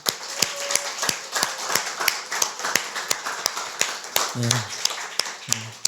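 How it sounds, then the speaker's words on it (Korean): A church congregation gives a round of brisk, sharp applause during a Sunday service, with scattered individual claps building into a fuller clatter while a voice and some singing run underneath. "우리 박수 한번 쳐주세요"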